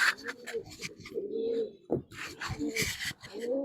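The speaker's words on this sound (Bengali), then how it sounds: "অনেকদিন পরে কবুতরগুলা ছাড়তেছি" Pigeons, just let out after a long spell shut in, coo close by in short repeated bursts, with brief rustling movement between calls.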